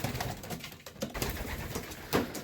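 Pigeons inside a loft coo and rustle close by, soft throaty calls overlapping amid shuffling and wing flutters, with no talk.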